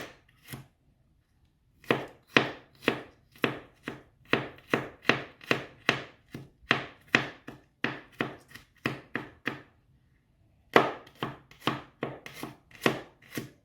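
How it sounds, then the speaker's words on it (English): A kitchen knife finely slicing two garlic cloves on a board, a steady rapid series of crisp chopping taps with a brief pause early on and another near the end, close and clear with no talk. "I'll only use 2 cloves, but slice them really fine so they can give off that nice scent."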